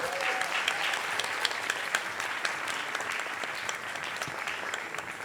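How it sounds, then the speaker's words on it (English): An audience at a panel on women in the tattoo industry applauds steadily, a dense, even clatter of many hands clapping that holds at a constant loud level throughout, with no voices over it. "let's give them another round of applause"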